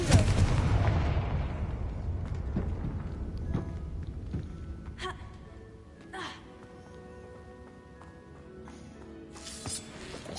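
A fiery Confringo spell blast in Hogwarts Legacy inside a cave, a loud initial boom decaying into rumble, followed by scattered smaller impacts and pops; a voice speaks over the scene.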